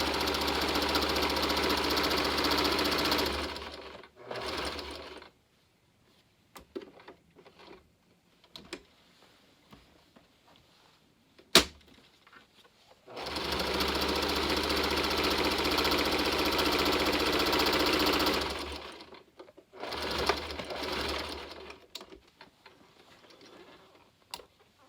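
Sewing machine backstitching a large fabric bow, two long steady bursts of fast mechanical whirring separated by quiet gaps with small clicks and handling taps.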